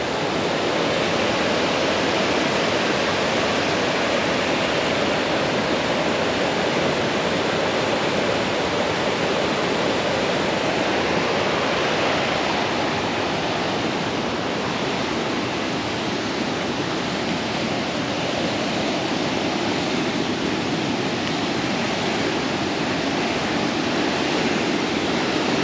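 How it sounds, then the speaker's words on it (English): River rapids rushing far below in the Cairngorms on a hill walk toward Mount Keen: a loud, unbroken roar of churning water that holds steady throughout, with no voices. "That really is rapids down there."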